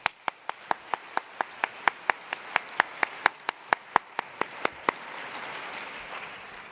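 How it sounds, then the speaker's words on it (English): An audience at an Open edX conference applauds a speaker with evenly spaced, crisp single claps that sound almost synchronized, about four per second. They stop after roughly five seconds into a soft murmur of the room. "I just want to give another round of applause for Anant."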